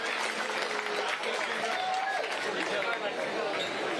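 Outdoor crowd applause and cheering for a team honored at a men's NCAA Division II cross country championship awards ceremony, a continuous wash of clapping with chatter and voices mixed in throughout.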